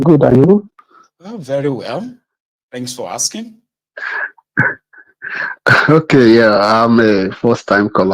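A sneeze, heard within a phone-in radio call, sits among stretches of conversation from the caller and host, with one sharp burst standing out between the spoken phrases.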